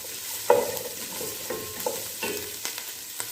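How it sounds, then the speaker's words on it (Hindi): Ingredients for chicken hot and sour soup being mixed and lightly sautéed in a pan, with a soft sizzle and a few scattered scraping strokes from a spoon, close and moderately quiet. "इसको मैं मिक्स कर लेती हूँ। थोड़ा सा सौते करेंगे, ज़्यादा ब्राउन नहीं करेंगे इसको"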